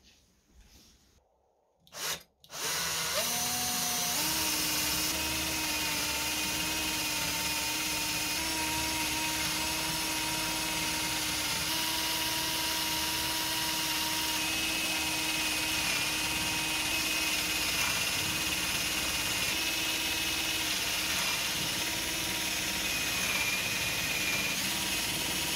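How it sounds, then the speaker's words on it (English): A power drill bores 10 mm holes for a tool organiser, spinning up after a couple of short bursts into a long, steady whine that stays loud and even to the end. "For these bigger screwdrivers, I'm drilling a 10 millimeter hole"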